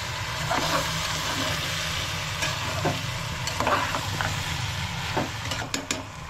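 Half a kilo of basmati rice stirred in a sizzling pot with oil and spices for veg pulav, a steady frying hiss under repeated scraping strokes of a spoon, close by, no talking.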